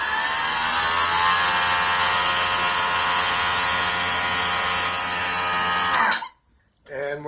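A Greenworks Pro 2200 PSI pressure washer sprays soap onto a surface with a loud, steady motor hum and hiss that holds for about six seconds before cutting off abruptly, followed by a brief near-silence and a faint restart.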